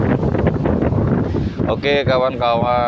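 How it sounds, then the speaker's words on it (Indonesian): Strong wind by the sea roars and buffets the microphone while someone talks over it. "ini angin sangat banter sekali, ombak berdebur-debur"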